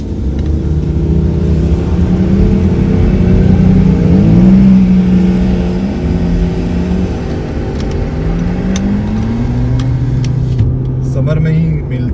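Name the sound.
sports motorcycles accelerating on road in Canada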